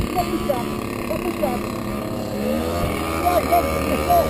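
A paramotor engine drones steadily in flight, a continuous low hum with faint harmonic whine, heard from a distance beneath an instructor's voice giving directions over a radio.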